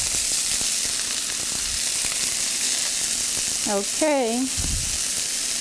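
Chicken pieces brown in a frying pan with a steady, loud sizzle and crackle as they are flipped, and someone speaks briefly over the constant hiss.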